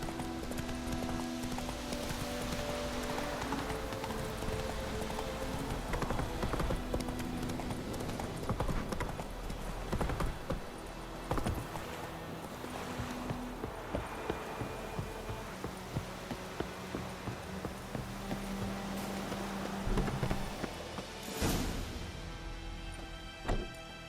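Roach, a horse in The Witcher 3, gallops with a rapid, steady clip-clop of hooves, close and continuous over a game soundscape with music and occasional heavier thuds.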